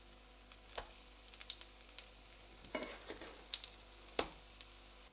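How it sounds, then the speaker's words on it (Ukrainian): Soft, steady sizzling of kefir and apple pancakes frying in oil at low heat, with faint crackles, occasional pops and light scraping sounds, close and quiet. "Смажимо оладки при невеликій температурі приблизно по 2 хвилини з кожної сторони"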